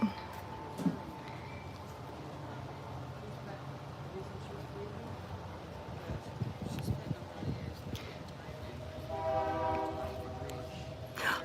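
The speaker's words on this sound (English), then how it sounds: "I hear the train." Rumbling rail noise with a distant train horn sounding near the end, heard under outdoor ambience and occasional voices.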